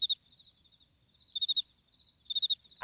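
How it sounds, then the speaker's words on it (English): A cricket sound effect plays chirping in bursts of rapid pulses with short gaps between them, crisp and fairly quiet against near silence, then cut off by a sudden noise at the end. "Can you do the crickets thing?"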